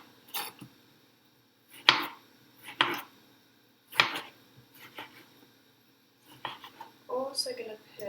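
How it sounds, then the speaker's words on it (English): Fresh tomatoes are chopped on a board in a handful of separate, moderately loud knife strokes, spaced irregularly with quiet gaps between them, ending in a cluster of quicker cuts. "Just chop all 4 of these up."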